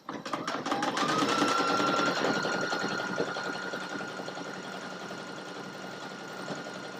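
Sewing machine stitching through a quilted fabric sandwich, a fast steady mechanical whir with rapid needle ticking, close and continuous, easing slightly in level after the first couple of seconds.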